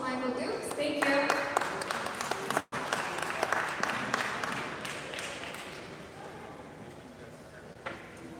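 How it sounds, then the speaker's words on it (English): Audience applause at a student scholars networking forum, a sustained wash of many hands clapping that peaks early, briefly cuts out, then gradually thins and fades, with faint voices underneath. "If you could please give a hand round of applause to Michael Dukes."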